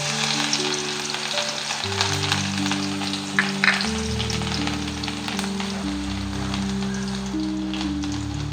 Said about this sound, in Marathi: तेल गरम झालंय, मिरची टाकून घेतेय.